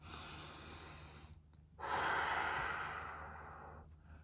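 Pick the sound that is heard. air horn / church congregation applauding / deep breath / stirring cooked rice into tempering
deep breath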